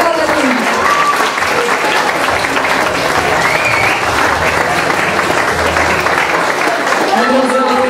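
An audience at the Miss Malbork spring pageant breaks into loud, sustained applause. The dense clapping holds steady and close for the whole stretch, with faint voices mixed into the crowd.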